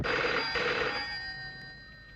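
An old-fashioned telephone bell rings in a loud trilling burst, pauses briefly, trills again, then the ring fades into a decaying metallic hum.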